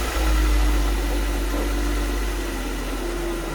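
A BMW E46 engine idles after a filter change, a steady low rumble with a constant vibrating hum that runs alone and evenly throughout.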